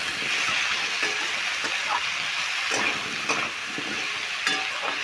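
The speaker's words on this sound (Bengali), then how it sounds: "এতে আর কোনো জল ব্যবহার করবো না, কুমড়োর জলেই কুমড়োটাকে ভেজে নেব।" Pumpkin pieces fry in a pan with salt and turmeric and no added water, a steady close sizzle broken by repeated scraping stirs of the spatula, with no talking over it.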